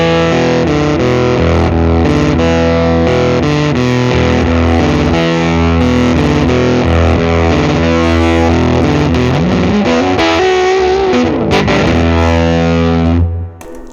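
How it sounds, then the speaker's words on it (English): Electric guitar riff played through a Swollen Pickle fuzz pedal, thick saturated fuzz with sustained chords and a bending note near the end, loud and continuous before cutting off. "This is a great, absolutely fantastic fuzz box."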